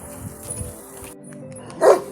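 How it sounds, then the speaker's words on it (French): A single sharp bark from a patou shepherd dog rings out near the end along the Camino Primitivo pilgrimage trail, moderately distant, over a low outdoor background. "voilà les fameux patous que tout le monde redoute sur le chemin"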